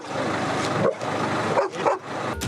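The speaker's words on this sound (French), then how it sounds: "le chien se mettait à aboyer, au contact de 3 des passagers" A drug detection dog barks and whimpers in short, loud, close bursts during a gendarmerie check of passengers, with no talk over it.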